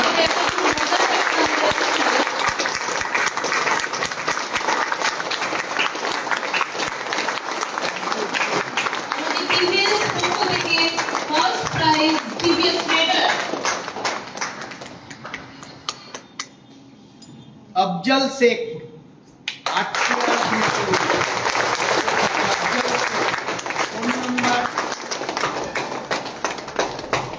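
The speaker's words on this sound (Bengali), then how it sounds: "সাথে সাথে সবাই একটু জোরে হাততালি দিন।" A crowd at a prize-giving event bursts into sustained loud clapping, with a brief lull where a voice calls out a name, then the applause resumes and carries on strongly.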